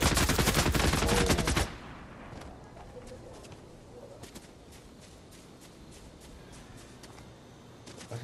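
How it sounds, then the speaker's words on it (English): Rapid automatic gunfire in the video game Fortnite, a loud continuous burst that cuts off abruptly, followed by scattered fainter distant shots. "I see somebody shooting."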